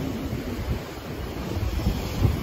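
Steady roar of surf and wind at a Gangwon-do surfing beach in Korea, a dense low rumble with gusty buffeting on the microphone throughout.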